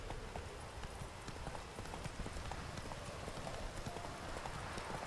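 Roach the horse's hoofbeats in The Witcher 3 keep a steady, continuous clip-clop rhythm, moderately loud and close throughout, with no talk.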